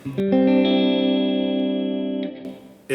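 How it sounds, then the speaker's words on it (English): A sustained distorted guitar chord rings out through a UAFX Golden Reverberator pedal with pre-delay, a heavy, spacious reverb wash, holding steady for a couple of seconds before cutting off, then a brief new strum. "Pre-delay makes your verb sound bigger."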